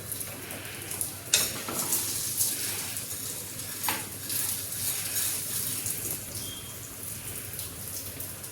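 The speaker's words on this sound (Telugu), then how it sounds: "సిమ్లో మినుములు లేత బ్రౌన్ కలర్ వచ్చే వరకు మెల్లగా వేపాలి." Urad dal fries gently on low heat in a thick pan, giving a soft, steady crackle and patter with occasional stirring scrapes, fairly quiet and alone.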